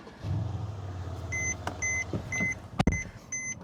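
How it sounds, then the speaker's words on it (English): A 2014 Mercedes CLS 550 is started from inside the cabin: a low starter-and-engine rumble catches and settles into idle, followed by a series of bright dashboard chimes and a few clicks. "We'll put a foot on the brake and start it right up."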